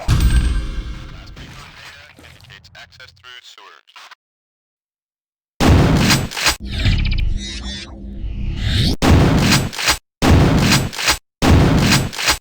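Quake II's Super Shotgun fires several heavy, booming blasts, the shots separated by short silences, with each report loud and close and followed by rumbling mechanical clatter.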